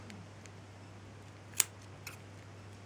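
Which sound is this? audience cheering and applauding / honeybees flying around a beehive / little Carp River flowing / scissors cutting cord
scissors cutting cord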